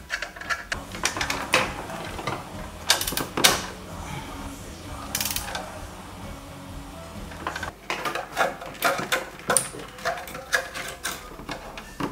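A hand ratchet tightens spark plugs on a BMW E36 316i engine, giving close, rapid bursts of clicking pawl and gear sounds with brief pauses and metallic knocks between strokes.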